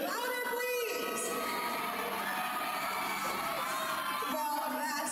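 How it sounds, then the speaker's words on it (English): A supporting crowd at a beauty pageant on Biliran Island cheers, shouts and whoops for their favorite candidates, a loud continuous mass of voices filling the space throughout. "Can we get a cheer from our supporting crowd?"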